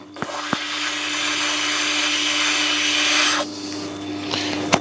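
A Tormek T8 water-cooled grinding stone is dressed with a loud, steady abrasive hiss and whine that runs for about three seconds, then cuts off to a low motor hum with a few clicks.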